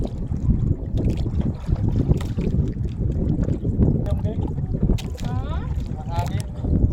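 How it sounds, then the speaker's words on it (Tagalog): Heavy wind at sea rumbles and buffets a microphone continuously, with voices talking beneath the gusts. "Malakas na ang hangin dito"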